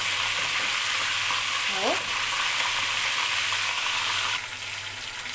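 Chicken pieces sizzle steadily in a pan of oil as they are turned to brown on both sides, a loud continuous frying hiss with brief stirring clatter and a short spoken word.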